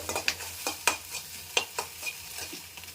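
Egg rice being stirred in a pan with turmeric, sharp metal scrapes and taps of a spoon landing every half second or so over a faint background sizzle.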